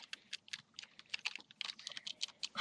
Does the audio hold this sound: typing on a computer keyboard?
yes